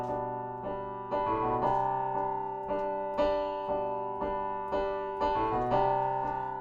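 A piano repeats a single note over and over while a cello moves up a step and back, the two playing a mi-fa-so motif together in a slow, even pulse.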